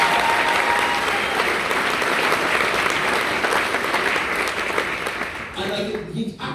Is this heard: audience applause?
yes